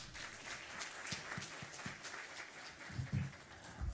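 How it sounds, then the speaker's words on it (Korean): Applause at a Korean church Sunday afternoon worship service welcoming the pastor, fairly quiet and somewhat distant, with scattered claps and a few stronger hand hits near the end. "우리 박수로 환영하겠습니다"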